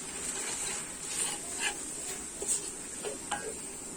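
Beef being stir-fried for a Thai green curry in a pan, with a steady soft sizzle, occasional utensil scrapes and light clinks against the pan, close and moderately quiet with no talking.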